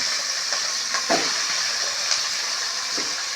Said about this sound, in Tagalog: Gigisa natin para ito malalsik